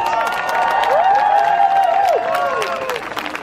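A festival crowd in Travemünde cheers and whoops loudly for actor Til Schweiger, one prominent rising-and-falling shout over a background of crowd noise and scattered claps.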